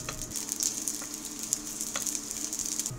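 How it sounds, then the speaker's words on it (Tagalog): Garlic and onion sauté in oil in a pan with a soft, continuous crackling sizzle. A few faint stirring ticks sit under it. "Igisa natin to hanggang sa maging translucent."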